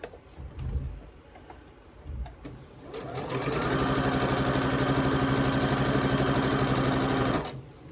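A sewing machine stitches a Spring Ivy quilt, its rapid, steady mechanical chatter starting after a few seconds of soft handling noise, running loud and close for several seconds, then stopping.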